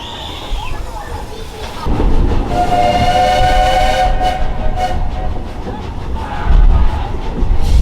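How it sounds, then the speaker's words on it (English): A rumbling Magic Kingdom ride train rolls into Main Street, USA station with squealing, whistling brakes as it slows, loud and close, under a muffled announcement voice. "if we're coming into the station, please remain seated until the train has come to a full and complete stop"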